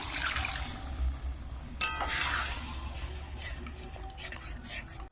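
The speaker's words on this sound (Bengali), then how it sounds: "এখানে আমি জলটা দিয়ে দেবো, ধারে থেকে এইভাবে দিয়ে দেবো।" Water poured from the edge into a pan of Bengali soybean and potato curry, a soft splashing rush with metallic clinks of utensils against the pan, moderately quiet.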